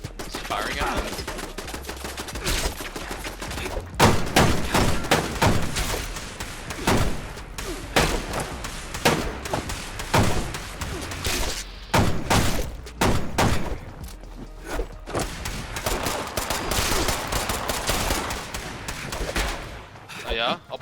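Gunfire in Fallout 76 crackles in repeated bursts and single shots throughout, fairly loud and dense, with players talking excitedly over the shooting.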